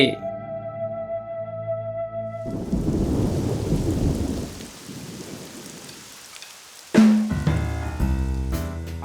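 Heavy rain pours steadily, then a loud, close thunderclap cracks near the end, with music playing faintly underneath the storm in a cartoon scene.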